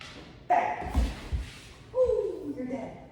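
A dog working for food in a home kitchen gives a few short barks and yips with thumps, mixed with a person's voice giving commands.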